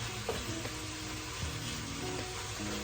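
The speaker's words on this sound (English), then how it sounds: "So we're going to just let that fry up a little bit more. Let that bacon get a little brown in there." Bacon browning in the bottom of a soup pot for a homemade Zuppa Toscana, with a steady, quiet sizzle running throughout and a few faint clinks and stirring sounds over it, no talking.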